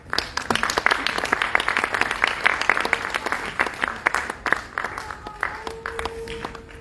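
Audience at a Bharatanatyam arrangetram clapping for an honoree on stage, a brisk burst of individual claps that thins out near the end as a voice begins speaking.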